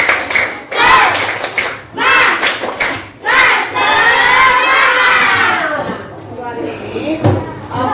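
Schoolchildren in a classroom do a rhythmic spirit-clap chant, loud bursts of group clapping alternating with shouted, chanted voices from the whole class.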